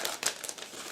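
Plastic bag crinkling as a transparent sprue from an ICM 1/35 Typ 320 (W142) Saloon model kit is unpacked; close, dry rustles and crackles in several bursts, with no talking.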